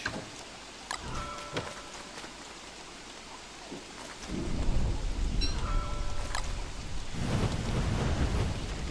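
Rain falls in the video game Don't Starve Reign of Giants, starting as light ticking drops and then swelling into a dense, steady downpour with a low thundery rumble, and no speech.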